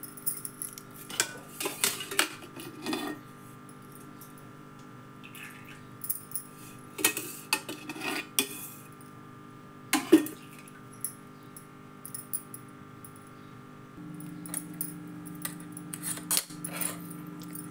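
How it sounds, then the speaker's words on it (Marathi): An iron kadhai is set down on the stove and handled, giving sporadic close metallic clanks and knocks with quiet pauses in between and no talking. "लोखंडी कढई ठेवली मी."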